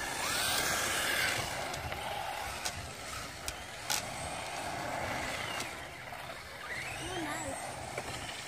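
Traxxas 4Tec 2.0 Ford GT radio-controlled car on drift tires, stability management on, whirring electric motor and scrubbing tires rising and falling as it slides, with a few sharp clicks and ticks, fairly quiet and close.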